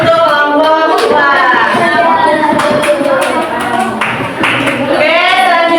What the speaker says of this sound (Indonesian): Oke, kasih tepuk tangan untuk kelompok 2.